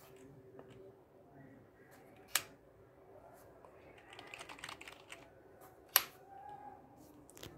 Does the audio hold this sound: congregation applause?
no